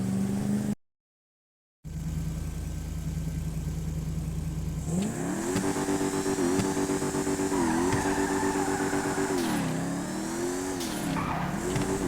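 A customized car in GTA Online sits idling, then its engine revs repeatedly with rising and falling whines and tire noise, loud and close, after a brief silent gap near the start.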